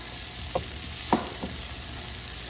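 Sweet peppers cut into julienne strips fry in extra virgin olive oil in a pan, giving a steady low sizzle with a few soft scrapes or clicks of stirring, fairly faint and without talk.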